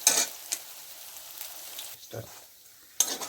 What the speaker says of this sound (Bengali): এরকম একটু লাল লাল করে ভাজতে হবে